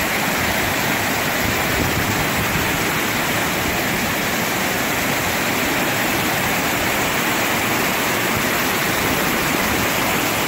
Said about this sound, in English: well, these are the falls.